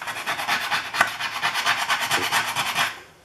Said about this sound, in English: You get the idea, that's the scraping.